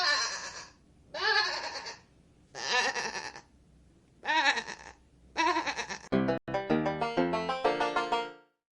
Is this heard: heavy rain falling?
no